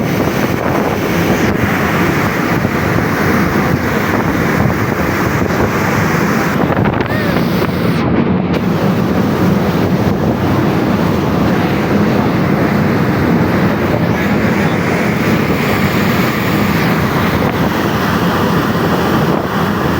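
Strong wind buffets the microphone aboard a ferry crossing the sea to Zanzibar, a constant loud roar with waves and engine rumble folded into it.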